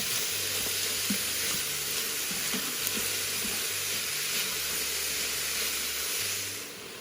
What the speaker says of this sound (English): I like to brown my vegetables when I put them in a soup.